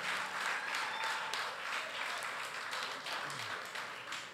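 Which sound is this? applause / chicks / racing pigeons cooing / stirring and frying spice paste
applause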